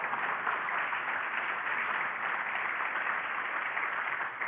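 An audience at a live IWMF session with Dr. Steven Treon applauds for the first-ever drug approval for Waldenstrom's macroglobulinemia, a steady, dense wash of clapping that holds at an even level throughout, with no talking over it.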